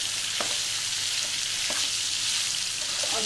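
Ivy gourd (kundru) frying in hot oil, a loud steady sizzle filling the whole stretch, with a few brief stirring scrapes from a spoon in the pan.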